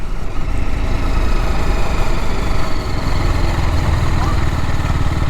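A TVS Apache RR310 sport motorcycle engine drones loudly and steadily throughout while riding, with wind noise and a voice speaking over it.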